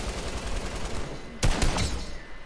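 An assault rifle fires in Fortnite, a short burst of sharp close shots cutting through a busy background of distant gunfire.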